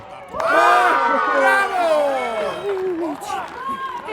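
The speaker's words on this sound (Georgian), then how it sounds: "უკვე გვესმის ხო გოგოების შეძახილი, რაც უფრო დრო გადის, მატულობს უფრო" Girls in a crowd shout and cheer loudly at a boys-versus-girls football contest, a swelling chorus of high voices with excited babble that stays dense throughout and rises in bursts.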